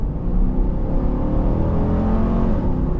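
A 2025 Dodge Durango R/T accelerating, heard from inside the cabin as a steady, loud engine drone and road rumble that holds constant throughout, with no voices.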